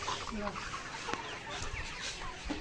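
Hens at a layer pullet poultry farm cluck and murmur softly in the background, a faint, steady mix of short calls with occasional sharper clicks and knocks.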